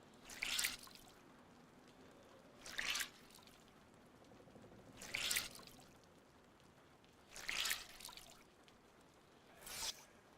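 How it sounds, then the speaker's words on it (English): Drenched clothes are wrung out in DayZ, five evenly spaced bursts of splashing, dripping water about every two seconds, faint and quiet with near silence between. "let's wring the clothes out."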